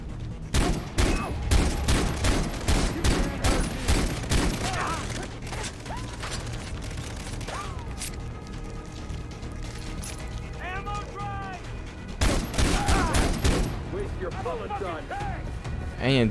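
Gunfire in the video game Far Cry 3: rapid bursts and single loud shots crackle in clusters, with a lull in the middle before another heavy volley, and voices and game sounds are mixed in.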